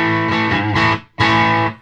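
Electric guitar played through an Amptweaker TightDrive Pro pedal at low gain with the Plex EQ switch engaged, giving a bright, lightly driven tone: two loud sustained strummed chords separated by a brief silence, with no talking.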